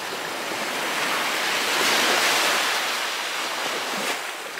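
Ocean surf breaks and washes onto a beach in Cancun beside a resort, a steady close roar of waves that swells in the middle, with some wind in the background.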